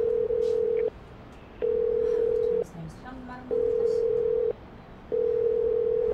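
A steady electronic ringback tone repeats in long beeps with pauses, ringing several times without anyone picking up.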